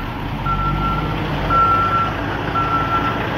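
A semi truck reversing at a trailer park sounds its backup alarm, a steady repeating beep in three short runs over a loud diesel engine idle.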